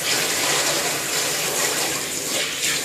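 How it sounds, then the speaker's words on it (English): Running water rinses shampoo off a dog during a bath, a steady, fairly loud gushing spray that flows without pause from start to finish, with no voices over it. "you're going to have to re-rinse the bottom because you got shampoo all over the bottom again"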